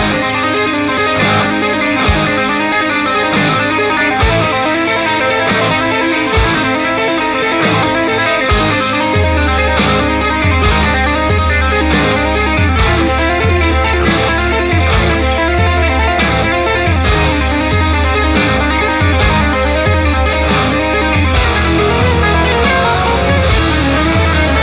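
Fast electric guitar tapping sits inside a dense full-band rock song, with continuous loud, busy playing over steady drums for the whole stretch.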